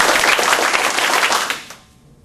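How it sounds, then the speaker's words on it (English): A class of students claps hands together in a classroom for about a second and a half, a dense burst of overlapping claps that stops abruptly and leaves quiet. "Okay, so everybody clap."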